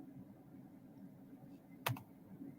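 Faint computer keyboard typing, with a few soft keystrokes and one sharper click near the end, set against quiet room tone with no talking.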